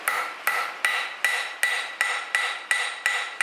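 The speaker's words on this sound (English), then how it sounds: "we're going to use the edge of this cross peen" A cross peen hammer strikes the surface of a forged metal leaf at a light angle to put in vein texture: nine evenly spaced, ringing taps about every 0.4 seconds, close and clear with no talk.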